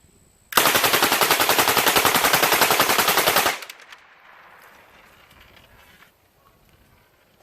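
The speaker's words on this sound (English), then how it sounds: "So here's the next mag dump, VBS spacer" A Lage Max 11 fires a full-auto magazine dump with one VBS spacer installed: a loud, fast, even stream of shots lasting about three seconds, then it stops abruptly, leaving quiet outdoor background.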